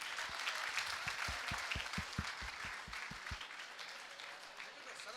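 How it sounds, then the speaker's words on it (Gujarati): Crowd applause welcoming a speaker to the stage at a lecture, a dense distant wash of clapping with a few louder distinct claps in the foreground, holding steady throughout. "મિત્રો, જયભાઈનું જોરદાર તાળીઓથી સ્વાગત કરી લઈએ."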